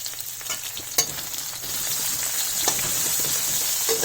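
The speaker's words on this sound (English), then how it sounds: "I'm going to put in some onion." Onion dropped into a hot pan with fennel and fenugreek seeds for a brinjal patchadi, sizzling steadily up close with a few sharp clinks of a utensil against the pan.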